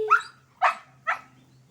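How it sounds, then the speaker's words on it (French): Three sharp, loud barks from a large dog, evenly spaced about half a second apart and close by, with no voices. "Elle a peur du gros chien"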